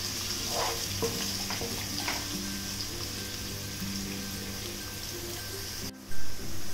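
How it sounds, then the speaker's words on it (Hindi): Finely chopped medium-sized onion sizzles steadily in a pan as it browns for an Indian vegetarian thali, a soft continuous crackle and hiss with light stirring clatter near the end. "अब एक मध्यम आकार का प्याज बारीक काट कर डालें और इन्हें सुनहरा भूरा रंग का होने तक भूनें।"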